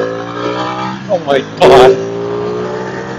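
A 2014 Ducati 899 Panigale engine roars close with a steady high-revving drone while a rider exclaims briefly under it, and a short louder burst of wind or throttle follows.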